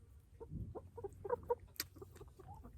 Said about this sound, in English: we have too many roosters, and I love my chickens